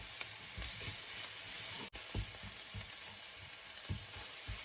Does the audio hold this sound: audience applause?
no